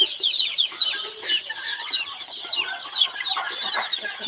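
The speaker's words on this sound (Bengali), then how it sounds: "আমার এই অরিজিনালি দেশি মুরগির বাচ্চা" A cluster of local desi chicken chicks cheeps continuously, high-pitched and close, their peeps overlapping in an unbroken chorus with no talk.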